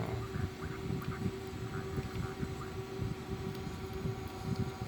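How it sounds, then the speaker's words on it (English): Airbus A340 engine spooling up on APU bleed air in a flight simulator cockpit, a steady droning turbine hum with a constant tone and faint clicks, low speech barely present. "pressurized air for starting the engine"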